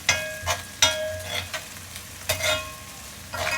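Whole cinnamon sticks, cardamom, cloves and bay leaf fry in oil in a new pan, with a soft crackle under several bursts of sharp, close stirring clatter from a spoon against the pan.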